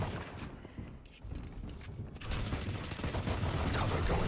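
Weapon reloading in the tactical shooter Valorant, with mechanical clicks and clacks over dense game noise that grows louder and busier partway through, mixed with gunfire-like bursts.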